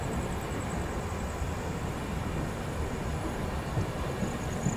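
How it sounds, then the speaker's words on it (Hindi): Subedarganj Dehradun Express pulling into a station during heavy rain, a steady loud rumble of rolling wheels and carriages with a dense wash of noise and a faint high whine, with no talking. "चलिए झींझक पे अपना अराइवल हो रहा है सूबेदारगंज देहरादून एक्सप्रेस का।"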